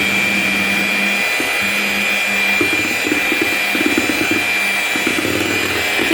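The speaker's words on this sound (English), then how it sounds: "Give that for another 30 to 45 seconds of good whisk." An egg and chocolate mixture for peppermint double chocolate fudge cookies is whisked in a bowl, giving a steady, close whirring drone that runs unbroken and alone throughout.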